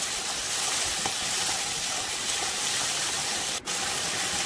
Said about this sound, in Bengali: এখানে আমি দিয়ে দিচ্ছি সামান্য একটু আদা বাটা, লঙ্কা বাটা, এগুলো দিয়ে একটু নেড়ে নেব